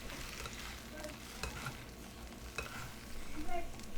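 Fiddleheads, blanched first, fry in oil with onion and garlic, giving a steady close sizzle with a few soft stirring scrapes and a slight swell toward the end, with no one talking.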